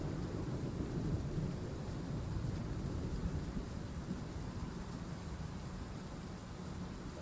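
A steady low rumble of distant thunder with rain and wind fills a stormy train-station scene in Train Sim World 3, continuous and fairly faint, with no one speaking.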